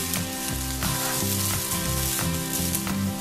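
Fried rice sizzles loudly in a hot pan as green chilli sauce goes in, a dense, constant close-up hiss with a pulsing, rhythmic stirring underneath.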